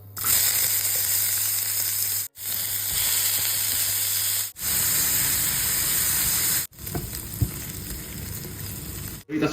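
Chopped onion and streaky bacon sizzle in olive oil in a pan, a steady loud crackling hiss broken by several short cuts into silence.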